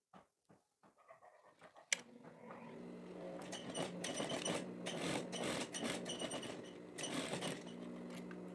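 A sewing machine topstitches the pocket flap of a women's plaid shirt, starting with a few short clicks and then running as a steady, buzzing whir for several seconds close by.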